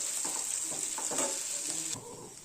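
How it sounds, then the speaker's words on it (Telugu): Idli frying in oil in a pan, a steady close sizzle with scraping stirring strokes throughout, cutting off sharply near the end. "ఫస్ట్ ఇడ్లీని ఇలా ఫ్రై చేయాలి"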